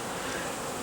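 Honeybees flying in circling orientation paths around a swarm box outdoors on a cool day, a soft continuous buzzing hum without talk.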